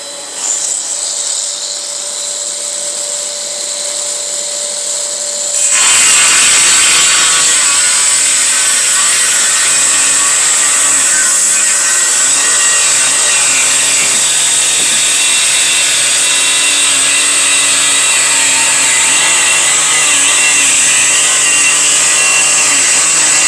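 A rotary Pro engraver fitted with a 45 mm Distar Butterfly disc cutting tile: a quiet hum first, then the tool switches on into a loud, sustained high whine with grinding and rasping through to the end.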